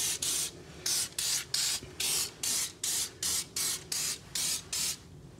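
Aerosol rust protection spray hissing onto a Troy-Bilt Vortex Tracker 2890 snowblower in a steady run of about a dozen short bursts, each roughly a quarter second, evenly spaced and close.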